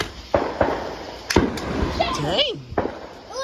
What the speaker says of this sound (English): my dad just working on the fireworks.